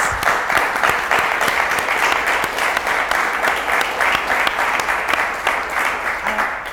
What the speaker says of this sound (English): So give Roberto a big round of applause.